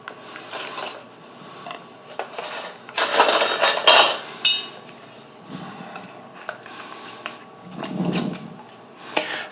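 A metal lid is screwed finger-tight onto a glass jar of strawberry jam, giving close, brief clicking and grinding twists in short bursts with quiet pauses between.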